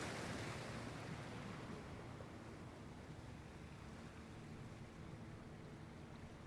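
Ocean waves wash steadily in a soft, continuous surf hiss with a low rumble underneath. The sound stays quiet and even throughout, with no voices.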